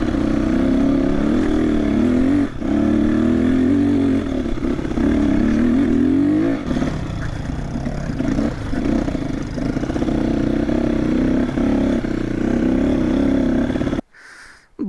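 A motorcycle on an adventure ride along a rough, dangerous rural road in South Lalitpur, its engine droning steadily and loud with shifting revs and rattling clatter, running nearly the whole time before cutting off near the end.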